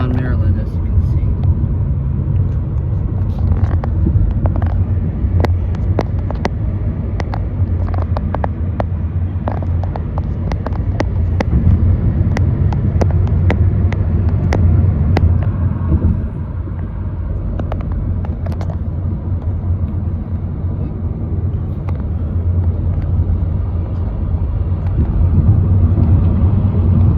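Steady road rumble and wind from a car cruising a Maryland highway near Baltimore, a continuous low drone with occasional faint clicks, with talking inside the car at times.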